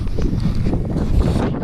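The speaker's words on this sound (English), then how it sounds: "it's the wind that's blowing the mist all over us" Steady wind roaring across an exposed, misty summit on Scafell Pike, a continuous low buffeting rush that fills the whole stretch with microphone-battering gusts and no voices.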